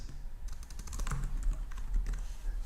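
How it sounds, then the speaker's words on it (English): Rapid, close key clicks from code being typed on a computer keyboard, an uneven but continuous patter that runs throughout with no talking. "So let's type this out."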